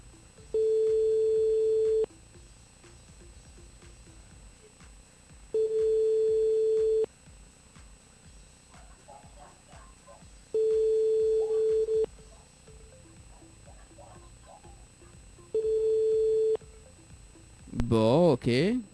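A telephone call placed live on a radio show rings out unanswered, with four evenly spaced steady ring tones separated by pauses and quiet talk between them, ending in a brief burst of other sound.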